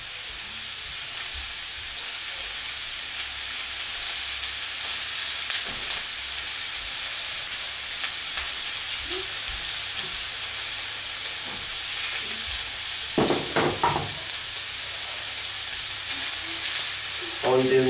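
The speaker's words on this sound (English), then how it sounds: "All you're doing is just sealing this meat off. In a pan." Steady broadband sizzle of beef shin searing in a hot, dry frying pan, continuous and fairly close, with a few brief clatters near the end.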